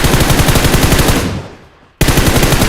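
Rapid automatic gunfire in PUBG Mobile, loud and close. It comes in a dense burst, fades briefly, then resumes abruptly at full force.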